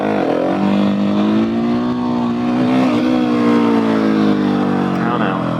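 A Husqvarna 701SM motorcycle engine drones loudly nearby with a steady, slowly rising pitch, as if held high in first gear, while a voice talks over it.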